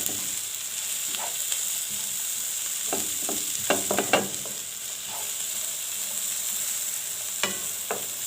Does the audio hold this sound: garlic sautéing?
yes